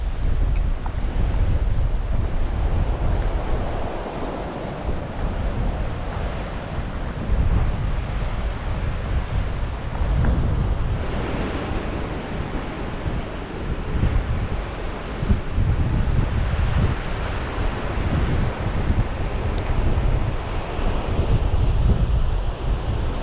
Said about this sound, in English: Just amazes me seeing these waves crashing in on the headland.